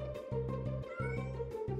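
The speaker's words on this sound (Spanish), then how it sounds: "¿Dónde se habrá ido esa gatita? ¡Oh! Está atrapada en ese gran árbol." Cartoon kitten stuck up a tall tree gives several short, high meows in quick succession over a low background music bed.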